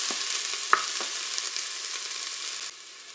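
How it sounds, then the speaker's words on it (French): Onions fry in hot oil inside a Cookeo multicooker, giving a steady close hiss of sizzling with a few soft clicks and a sharp tap early on, then the sizzle drops quieter near the end. "l'huile est chaude, je vais pouvoir mettre mes oignons"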